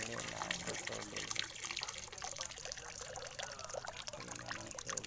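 Clear water gushing from a newly installed water pump, a steady splashing pour heard up close under a man's speech.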